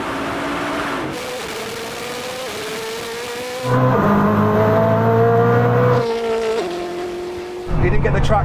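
A Bugatti Chiron Super Sport and a Koenigsegg Jesko drag race, engines droning and climbing through gear changes with a louder, rougher surge midway, while a voice exclaims over the roar.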